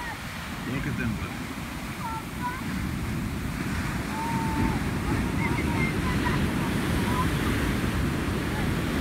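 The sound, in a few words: ocean waves breaking on the shore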